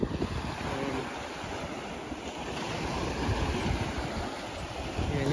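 Ocean surf rolls steadily onto Surin Beach in Phuket, a continuous close wash of waves with broadband rushing and wind buffeting the microphone, no voices present.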